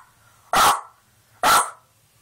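Two loud, clipped bark sounds about a second apart, made by a human voice mimicking a dog, each burst short and forceful against near silence.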